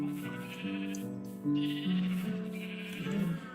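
Sheep bleating on a video game farm, several wavering, nasal bleats in quick succession, close and clear with no talking over them.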